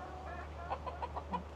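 Hens cluck softly in a chicken coop near the nesting boxes, a few short rhythmic clucks over a low steady hum, fairly faint.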